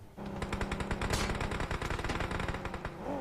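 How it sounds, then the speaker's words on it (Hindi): Machine gun fire from the BGMI battle royale game rattles in rapid continuous bursts, loud and sharp, the rhythm running almost without pause for a few seconds. "यहाँ पे मेरे ख्याल से 3 लोग तो गोली चला ही रहे"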